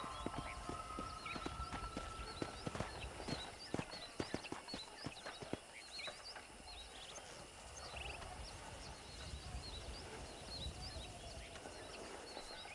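Horse hooves clip-clop in a steady walking rhythm in Red Dead Redemption, with a few sharper hoofbeats early on and birds chirping throughout an outdoor ranch ambience.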